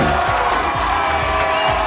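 A loud, dense crowd cheers and roars continuously at full volume for a short burst, with a steady rhythmic thumping beat underneath and no clear speech.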